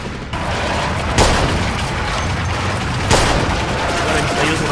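Sustained machine gun fire in the Mafia II video game, a dense continuous rattle of shots with a couple of heavier bursts, loud and close throughout.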